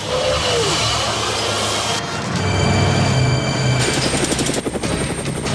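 A cartoon helicopter roars close and loud, its engine whine and rotor thump growing into a rapid chopping pulse toward the end.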